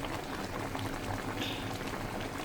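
Mango syrup for Kashmiri mango morabba simmers and bubbles steadily in a pan, a continuous soft boiling hiss with small pops, close and even throughout, with no talking.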